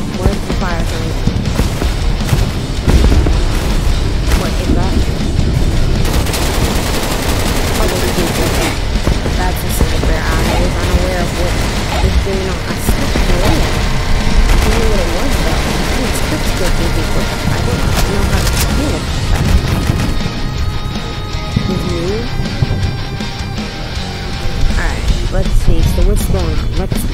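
Rapid video game gunfire with automatic bursts and booms, dense and continuous throughout, mixed under frequent excited talk from a player.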